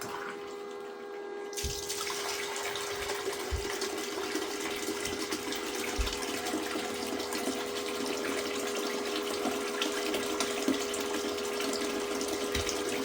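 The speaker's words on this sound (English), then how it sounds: "The water's kind of running a little bit fast." Water rushes steadily through a gold prospecting sluice set at a shallow angle outdoors, a constant close hiss with a few soft knocks, running alone without speech.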